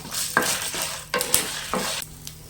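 Dry red chilies and garlic cloves roasting with horse gram in a pan, stirred in repeated scraping strokes over a light dry sizzle, close and rhythmic with occasional utensil clinks.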